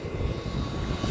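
A Chinese-brand RC car runs at full throttle, a smooth, steady high-pitched motor whine with rumbling wind noise, brief and continuous.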